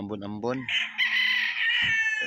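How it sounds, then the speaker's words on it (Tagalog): A rooster on a rainy Philippine game-fowl farm crows loudly and close, opening with short choppy notes before a long sustained call that cuts off abruptly. "Nagpapasilong yung ibang manok."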